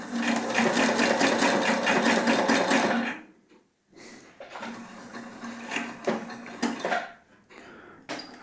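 A Husqvarna Topaz 25 sewing machine stitching at about 1200 stitches per minute, a fast, loud, rapid mechanical hum that runs for three seconds, stops briefly, then resumes in bursts with clicks and handling.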